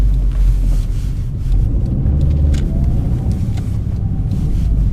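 A 1994 Toyota MR2 slick top with a naturally aspirated engine drives along, its exhaust holding a steady, loud low drone under continuous road rumble with no talking.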